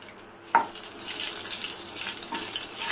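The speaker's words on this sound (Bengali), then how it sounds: "তেলের মধ্যে শুকনো লঙ্কা দিয়ে দিলাম।" Dried red chillies drop into hot oil for a coriander pomfret dish, giving a sharp crackle at the start and then a steady, moderately loud sizzle and hiss.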